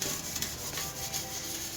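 Close-up abrasive scrubbing of a cooking pot with a sandpaper-like sponge, a rough rasping rub repeated in quick strokes against a hard surface.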